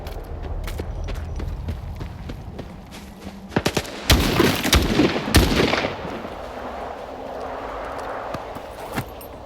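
Gunfire in the shooter S.T.A.L.K.E.R. 2: scattered single shots at first, then a dense burst of rapid automatic fire and loud cracks in the middle, tapering into a few more isolated shots over background ambience.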